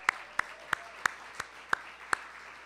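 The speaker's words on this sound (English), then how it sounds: "Give Chris a round of applause." About seven sharp, evenly spaced claps at a civic event held at DC Central Kitchen, sparse and fairly faint against a quiet room rather than a full burst of applause.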